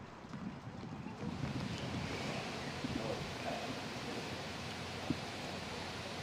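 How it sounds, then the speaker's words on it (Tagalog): Gusty wind and rain from Typhoon Nando lash Baguio as a steady, loud broadband roar with rushing surges and no voices, holding constant throughout. "ramdam pa rin ang hagupit ng babugso-bugsong hangin at na may kasamang ulan na dala itong si Bagyong Nando"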